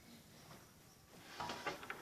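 A self-closing door swings back and shuts with a short clatter of knocks and rattles near the end, preceded by a quiet soft rustle, close and fairly faint.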